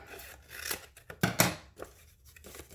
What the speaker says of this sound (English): And then all you have to do is cut it in half.